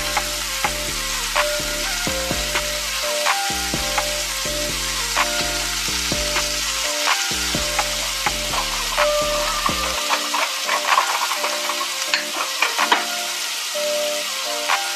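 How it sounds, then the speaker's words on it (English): Shrimp fry in hot bacon grease on medium-high heat, making a continuous close sizzle with scattered crackles and pops that runs steadily for the whole stretch, with no talking. "That's what we're going to fry our shrimp in."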